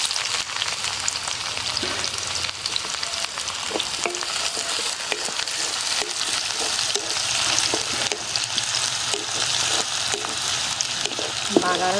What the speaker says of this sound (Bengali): দুইটা শুকনো মরিচ ছেড়ে দিলাম। আমি পেঁয়াজ আর রসুন দিয়ে দিব।